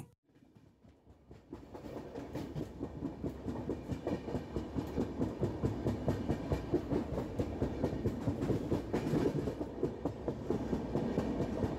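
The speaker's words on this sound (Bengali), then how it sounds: "রাতের অন্ধকার চিরে ছুটে চলেছে ট্রেনটা।" A train speeds through the night on a village railway line, a steady rhythmic clickety-clack of wheels over rail joints building in after a brief quiet start and rolling on loud and close without any voices.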